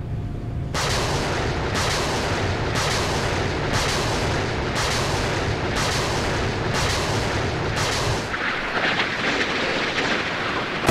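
Phalanx CIWS close-in weapon firing at incoming missiles in the naval game Sea Power: a continuous loud buzzing roar of rapid gunfire pulsing in long bursts, then a broader rumbling wash near the end.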